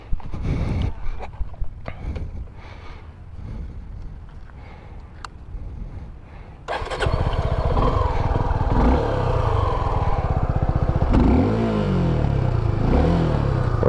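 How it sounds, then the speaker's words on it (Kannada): A 2024 Suzuki V-Strom SX 250 touring motorcycle idles close by with a steady, low, thumping exhaust beat that starts partway through after quieter handling noises, running on continuously. "ಒಳ್ಳೆ ತಮ್ಮಿಂಗ್ ಇದೆ ಗಾಡಿ ಮಾತ್ರ."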